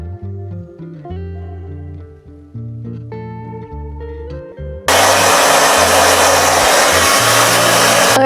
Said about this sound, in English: blow dry it the way that I like it